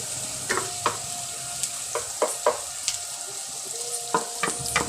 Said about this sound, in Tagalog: Sautin na natin, mga kaulam, hanggang lumabas yung aroma ng ginigisa nating ingredients